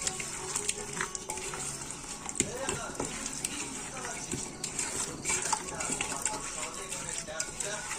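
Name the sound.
frying and stirring food in oil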